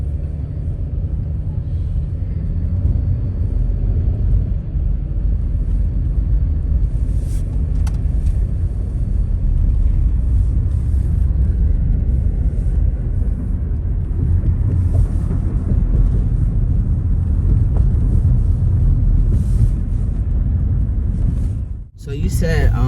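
Steady low engine rumble from a city bus riding through Philadelphia, loud and continuous with vibration and faint wind noise, ending in a brief dip near the close.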